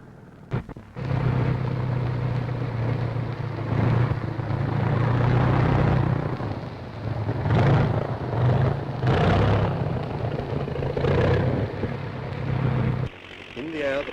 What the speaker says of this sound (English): the first takeoff